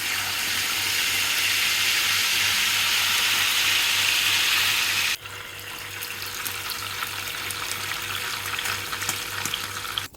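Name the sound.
fish frying in a pan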